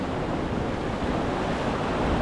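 Sea water rushing in a current, a loud, dense, unbroken wash of broadband noise close by, steady throughout with no talking.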